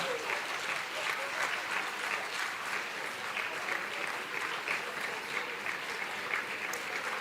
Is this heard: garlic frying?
no